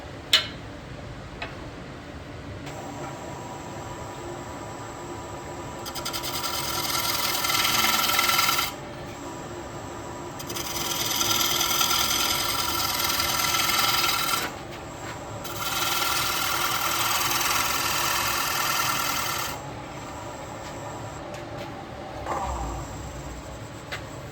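A scraper cuts a wooden bowl spinning on a lathe, giving steady raspy scraping passes of several seconds each, separated by brief pauses, fairly close and moderately quiet, with no talking.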